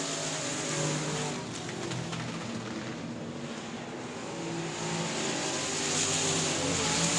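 Race cars lap South Texas Speedway at night, their engines a continuous distant roar that swells and fades slightly as they circle the track.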